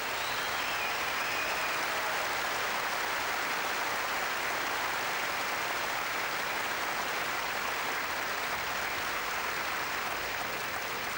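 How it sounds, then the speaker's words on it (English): Sustained applause fills a snooker hall at the 1984 Coral UK Final as Alex Higgins pulls a frame back, a steady broadband roar of clapping that holds evenly throughout without voices. "Tremendous applause down there in the hall as Alex Higgins takes the score to 6-9"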